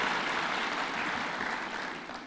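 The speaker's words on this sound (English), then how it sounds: "A round of applause for those institutions," Applause at a State House event with President Ruto, a steady, fairly loud wash of many hands clapping that runs the whole short stretch and eases slightly at the end.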